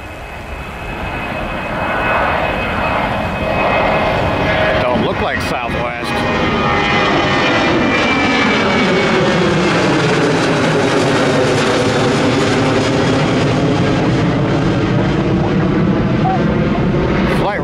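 A Southwest jet airliner roars through its takeoff at Miami, a loud, sustained engine rumble and whine that swells and shifts in pitch as the plane passes fairly close.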